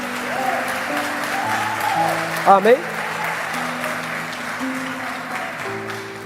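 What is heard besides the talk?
church congregation applauding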